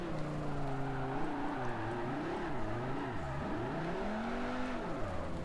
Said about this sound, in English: Oh god, I still managed to completely spin the car out again.